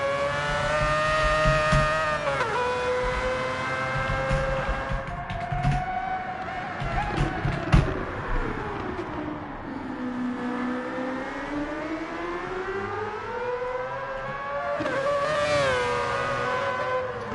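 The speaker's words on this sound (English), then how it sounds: "One of the most fantastic noises we probably ever hear from a car. That rotary engine." A rotary-engined race car in the video game Gran Turismo 7 at Daytona Road Course holds a high, screaming, sustained wailing note, rising and falling in pitch as it revs and shifts, loud and close.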